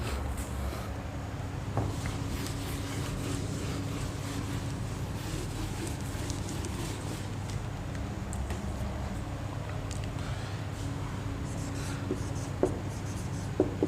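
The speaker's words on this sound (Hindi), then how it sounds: "आइए मैं कुछ लाइन्स लिखता हूँ" A pen or pencil writes lines of a poem by hand on paper, a soft, continuous scratching that runs steadily for about fourteen seconds over a low background hum, with no talking.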